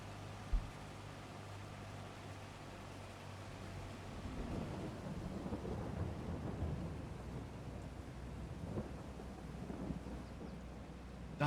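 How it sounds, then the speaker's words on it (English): Steady rain hisses beneath a low rumble of thunder that swells midway in Farming Simulator 22 on the Zielonka map, a continuous wash of storm noise with no voices. "Rain started."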